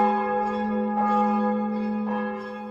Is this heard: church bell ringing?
yes